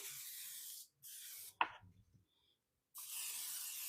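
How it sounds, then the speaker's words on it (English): A single short hiss of aerosol cooking spray onto a donut pan, close by, between stretches of steady background noise, followed by a few faint clinks. "Let's spray this up, get this next batch going."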